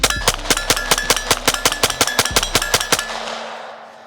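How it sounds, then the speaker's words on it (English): A Taurus TX22 pistol fires 16 rounds at a target in a fast, evenly spaced string of loud, sharp cracks, then the last shot's echo fades out. "Now we get to have the full capacity of the Taurus TX22. 16 rounds into the target here."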